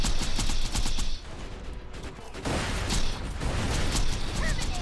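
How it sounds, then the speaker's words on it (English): A gun turret in Borderlands 2 firing in dense, rapid bursts, loud and close, with a brief lull before the shots resume, and a voice talking over the clamor. "the turret's so loud"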